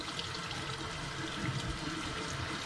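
Tap water runs steadily over cured bacon being rinsed in a sink, a continuous close splashing wash that stays even throughout with no talk.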